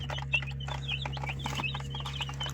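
Five- to six-day-old chicks chirp in a cramped box, a busy overlapping chorus of high peeping calls, close and continuous over a steady low electrical hum.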